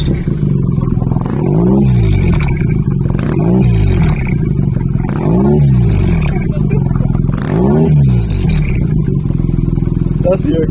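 A 2011 BMW R1200GS motorcycle fitted with a GRmoto carbon exhaust revs up repeatedly, with about five rising-and-falling throttle blips over a deep, loud idle close to the microphone, and a voice speaking over it.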